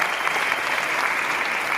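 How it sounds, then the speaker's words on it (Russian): Loud, dense applause from a comedy show audience, a continuous close wash of many hands clapping at a steady level from start to end. "Давайте, друзья, под ваши аплодисменты мы начинаем."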